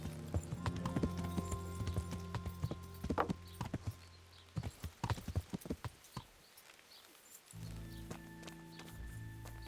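Horse hooves clip-clop in Kingdom Come: Deliverance, a run of sharp, close hoof strikes in an uneven walking rhythm, with pauses and quieter stretches between bursts.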